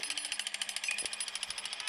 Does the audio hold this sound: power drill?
yes